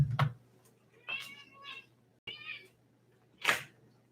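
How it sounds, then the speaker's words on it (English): A house cat meows several times in short, separate calls, close by and fairly quiet, with a door-like thump and brief rustles between them. "I have to let my cat out."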